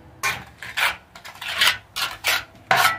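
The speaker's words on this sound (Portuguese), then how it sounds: "taca a massa na parede" Mortar is slapped and worked with a trowel on a wall while plastering a ceiling. There are about six separate scraping, rasping strokes in an uneven rhythm, fairly close and loud.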